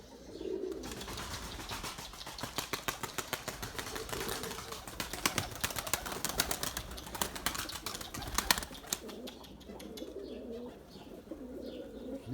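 Young white pigeons coo and flutter up close, with bursts of rapid wing claps in a dense rhythmic run, soft cooing underneath, and someone speaking over them.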